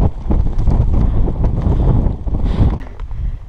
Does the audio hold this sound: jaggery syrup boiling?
no